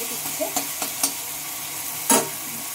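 Jackfruit and potato fry in hot oil with a steady low sizzle, broken by a few light stirring clinks and scrapes and one louder scrape near the end.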